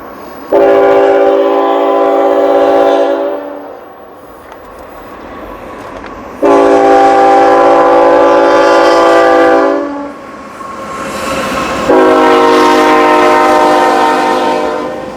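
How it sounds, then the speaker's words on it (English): A train passes close by, sounding three long, loud horn blasts separated by short gaps, with the rumble of the cars underneath. "train goes by here"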